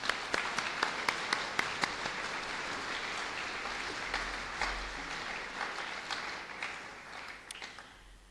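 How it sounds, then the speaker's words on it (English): Audience applause at a school speech night award ceremony, a steady wash of clapping with a few sharper individual claps early on, fading slightly toward the end in a large hall. "I think you can applaud."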